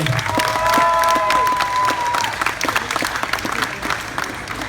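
Crowd applause for hypnotized volunteers on stage at a high school project grad show, steady dense clapping with some cheering, a brief whistle-like tone early, tapering slightly toward the end.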